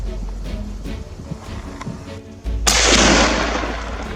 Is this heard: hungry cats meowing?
no